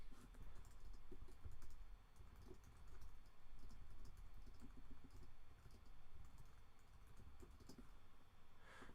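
Steady, rapid typing on a computer keyboard as a question is entered, faint and close, with a continuous patter of key clicks and no talking.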